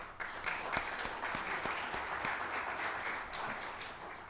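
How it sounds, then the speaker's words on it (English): An audience at an industry talk gives a big round of applause, moderately quiet but continuous clapping with a few sharper individual claps standing out. "may I request all of you to give him a big round of applause"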